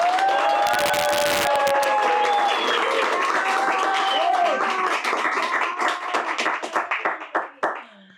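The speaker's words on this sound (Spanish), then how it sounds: "Y tengo una invitada especial que me gustaría que la recibiéramos con un gran aplauso" An audience gives a big round of applause with some cheers and whistles to welcome a guest to a housing talk, loud and full at first, then thinning into scattered claps before it stops.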